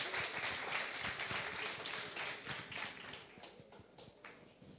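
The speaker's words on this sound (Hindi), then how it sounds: "तालियों की गड़गड़ाहट बता रही हैं" Applause from the audience after a song at a Lata Mangeshkar Smriti Award performance, with steady clapping at moderate volume that thins out gradually toward the end.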